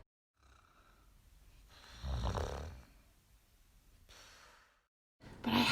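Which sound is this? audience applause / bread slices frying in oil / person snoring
person snoring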